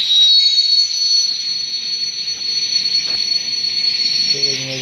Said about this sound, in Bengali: ট্রেনটা আমি এখন ব্রেক মারবো